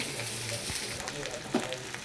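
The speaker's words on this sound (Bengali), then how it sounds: "এর মধ্যে এখন একটু জল দিয়ে দেবো" Water is poured into masala frying in a pan for a rohu fish kalia, raising a brief, steady close-up sizzle with a small bump of stirring near the end.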